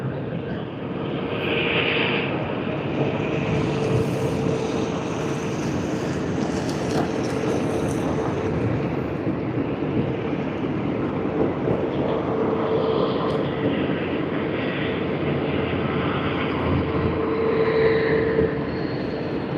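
A Boeing 737 departs Sydney Airport in the early morning, its jet engines making a broad, steady roar that holds for the whole stretch, distant but strong, with no talk.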